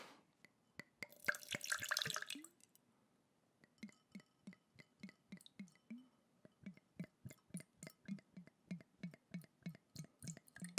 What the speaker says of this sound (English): I'm trying to get it to hit the side of the glass so it doesn't make that dripping sound that's awful